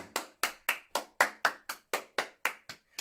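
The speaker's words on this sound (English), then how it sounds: "give a big round of applause to all of our leaders today" A group claps in a Kapa Haka session for children, about a dozen crisp, evenly spaced claps in a steady rhythm, fairly quiet and with no talking.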